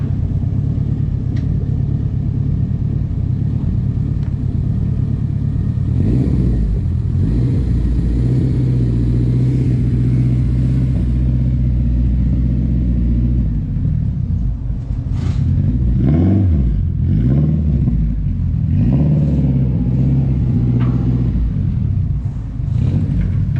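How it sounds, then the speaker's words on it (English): A K24-turbocharged Honda Civic EG being loaded onto a Dynojet dyno, its engine rumbling steadily and close throughout, with a few revs and surges of throttle midway and near the end. "Gonna load the car up on the dyno jet and then we're gonna get started."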